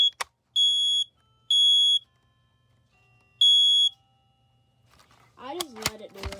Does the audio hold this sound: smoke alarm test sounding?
yes